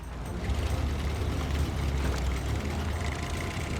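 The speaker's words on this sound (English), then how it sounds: "Oh my god, listen to the engine." A truck engine in the SnowRunner video game chugs with a steady, low, rough rumble and faint mechanical rattles, holding at an even level with no talking.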